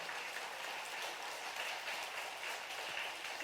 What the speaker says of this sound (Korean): 바쁘신 예수님께 박수 한번 쳐드려요.